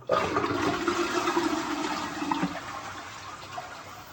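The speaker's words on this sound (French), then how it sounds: "je vais faire une grosse chasse pour garder, voir à quel niveau l'eau s'arrête en bas" A toilet flushed hard with the tank water shut off, water rushing and draining steadily for about four seconds, close and fairly loud, with no voices.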